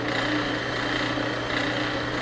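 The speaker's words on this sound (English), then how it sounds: "We bring this up, turn it on, and we are drilling now for a tap for quarter 20." A drill press boring a tap hole for a quarter-20 thread with a number 7 drill in MDF gives a steady, close motor whine with a constant hum and no clear pauses.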